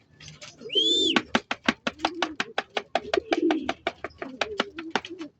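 Racing pigeons cooing close by, a rapid series of about two dozen soft rhythmic coos with low throaty hums between, plus one brief whistling tone near the start, no talk.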